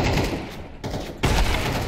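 Counter-Strike 2 gunfire crackles in rapid bursts, loud and dense, breaking off briefly before another volley resumes.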